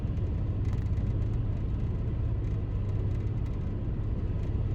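A car cruising on Interstate 87 in New York produces a continuous low road rumble and engine drone, steady throughout with no voices.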